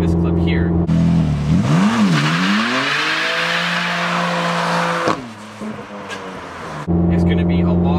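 A rear-wheel drive BMW M4 drifts, the engine revving hard through rising and falling pitch sweeps over a loud roar of tire noise, dropping briefly before the revs climb again.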